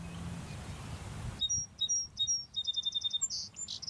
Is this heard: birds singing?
yes